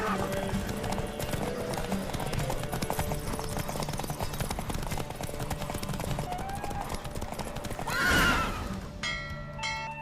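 A horse race in The Witcher 3: Wild Hunt, a fantasy role-playing video game: rapid galloping hoofbeats pound continuously under the action, with a loud close whinny near the end and a voice calling out briefly.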